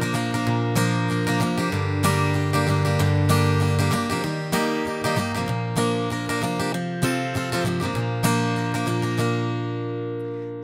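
Acoustic guitar strumming the intro to a song, a steady, bright rhythm of close, loud chords with crisp strokes running throughout, no voices.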